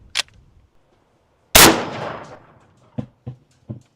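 A single loud shot from a 450 Bushmaster rifle striking a steel dumbbell, a sharp blast with a ringing decay, followed by a few faint metallic clinks.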